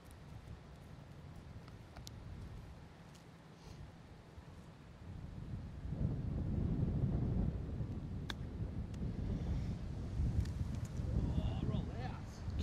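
Wind gusting across a golf course, buffeting the microphone as a low rumble that strengthens partway through, with people talking over it.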